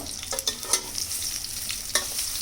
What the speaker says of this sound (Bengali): লাল লাল করে 10 মিনিট ধরে আমি ভাজবো এগুলোকে